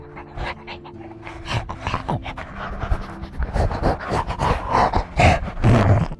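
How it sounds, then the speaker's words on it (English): A dog panting right into a microphone lying on the ground, loud close rapid huffing breaths with snuffles and rough whimpery noises that build toward the end. "This is what would happen if I dropped my microphone and a dog came over"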